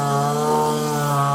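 Steady, droning whine of a string trimmer mowing thick hay grass full of daisies, running loud and close at constant pitch with no pauses or voices.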